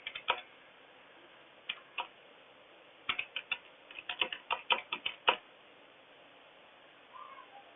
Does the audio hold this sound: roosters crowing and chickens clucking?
no